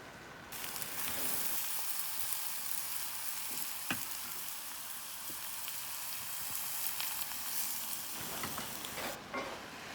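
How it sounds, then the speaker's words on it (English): Apple and onions frying in a pan for a pork roast stuffing, giving a steady, close, loud sizzle that fills the whole stretch with no voices. "Okay, now we're going to transfer the apple to the actual pan."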